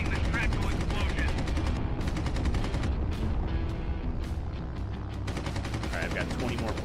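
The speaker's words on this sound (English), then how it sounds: "Be careful, pilot. The artillery is firing." Artillery and gunfire from the Red Wings: American Aces aerial combat game on Nintendo Switch, a dense continuous barrage of rapid shots and booms running loud throughout, with a voice speaking over it.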